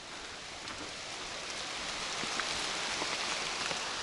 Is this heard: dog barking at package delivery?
no